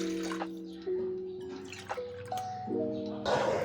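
Water is poured into a cooking pot in a quiet kitchen, a short ringing pour with tonal rises as the pot fills, ending in a brief splashy gush.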